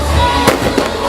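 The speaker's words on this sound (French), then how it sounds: "qui s'est terminé par des feux d'artifice." Fireworks burst at the finale of Festiglaces 2019, a winter festival, with two sharp booming explosions close together over a crackling, noisy background.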